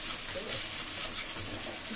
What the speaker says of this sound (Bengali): আলুটা প্রায় কিছু ভাজা হয়ে গেছে অনেকটা